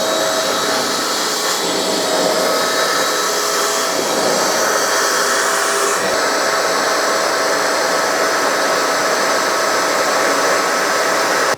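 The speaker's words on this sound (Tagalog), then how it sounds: "Napakalakas talaga nitong vacuum cleaner na to" A Perysmith M2 Lite portable vacuum cleaner runs continuously close by, a loud, steady high-pitched whirring hiss that holds at one level throughout with no pauses or talk.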